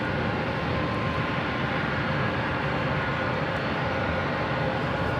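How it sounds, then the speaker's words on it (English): A 26-year-old Boeing 767-300ER airliner takes off at LAX, a loud, steady broadband engine roar that holds unbroken and close throughout, with no talk. "It's flight 330 heading to Honolulu, 26-year-old 767-300ER."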